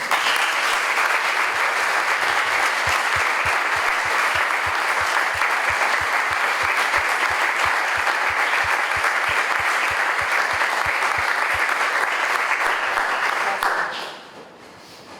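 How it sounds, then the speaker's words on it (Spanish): A conference audience gives a sustained round of dense, steady applause that holds evenly for about fourteen seconds, then cuts off sharply into quiet room tone. "Creo que se merecen un aplauso."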